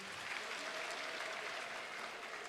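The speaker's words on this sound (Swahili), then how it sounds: "Tukaribishe waziri wetu kwa makofi." A crowd at a Kenyan public event in Meru claps in welcome for a government minister, a dense, steady burst of applause filling the whole moment without speech.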